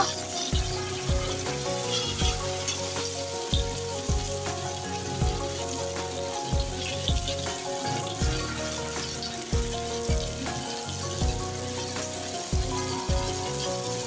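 Slices of Indo-Pacific king mackerel fry Agri-Koli style in a pan, giving a steady, dense sizzle throughout with a recurring low rhythmic thumping underneath.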